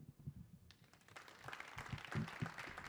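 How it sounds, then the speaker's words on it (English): An audience breaks into applause, clapping building from scattered claps to a fuller burst, moderately close. "A round of applause for Zita Macheta."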